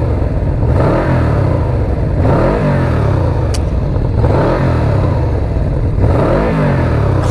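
Yamaha VMAX motorcycle engine revving as the throttle is twisted, a loud, dense, low-pitched roar that rises in sweeping surges roughly every couple of seconds, close and continuous throughout.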